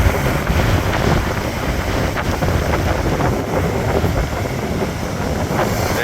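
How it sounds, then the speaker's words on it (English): Strong wind blowing on the beach at Seaton Carew, Hartlepool, during bass and flatfish fishing: a steady, loud roar buffeting the microphone, with possible surf underneath and no voices. "Wind's picked up."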